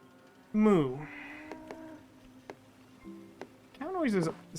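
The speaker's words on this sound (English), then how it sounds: "Cow noises seem much louder than all of the other noises." A cartoonish cow moos twice, loud and clear, in the tile-laying video game Dorfromantik, with soft game chimes and tones between the calls.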